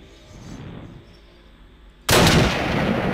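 Gunfire in the Minecraft video game, a single abrupt loud blast bursting in after a quiet stretch of faint ambient noise, its roar sustained to the end.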